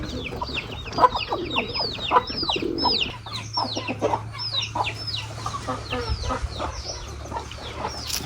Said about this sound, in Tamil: கோழிக்கு தீன் போட்டாச்சு